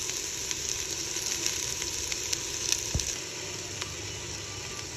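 Onions frying in a little cooking oil for a sotanghon soup, giving a steady close crackling sizzle with scattered pops and one sharp clink partway through.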